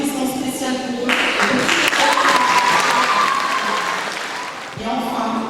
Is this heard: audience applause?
yes